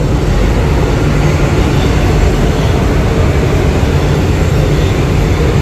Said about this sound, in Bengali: আমরা যথারীতি ট্রেন মিস করেছি বেরিয়ে গেল তোমার সামনে দিয়ে